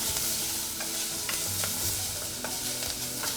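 Chopped coriander stems sauté in a pan for a mopane worm chili sauce, giving a continuous bright sizzle with faint stirring taps over a short stretch, with no talking.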